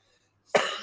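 A single sharp cough bursts out close by after a brief silence, one harsh burst trailing off quickly.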